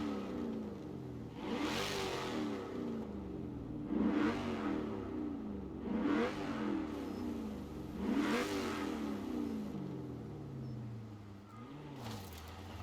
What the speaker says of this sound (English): I'll give you guys just a quick engine clip again, just so you guys can hear the difference between it and Forza Vista and out in free roam.